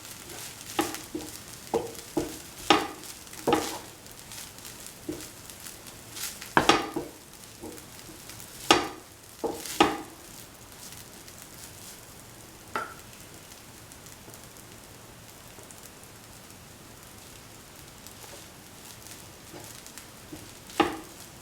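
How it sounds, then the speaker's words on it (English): Spicy chicken rice noodles sautéed in a hot pan, a steady sizzle broken by sharp, irregular scrapes and clacks of a utensil against the pan, close and fairly loud at first, then fewer strokes with sizzling continuing. "Saute thoroughly."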